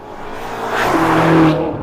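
A BMW M5 30 Jahre edition, a limited anniversary model with close to 600 horsepower, drives past loudly, its engine and tire roar swelling to a peak and then fading.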